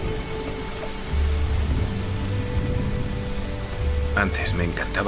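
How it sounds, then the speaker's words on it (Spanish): Rain starts to fall and becomes a steady hiss of drops on surfaces, with a low rumble that may be distant thunder, and a voice speaks briefly near the end. "Empieza a llover."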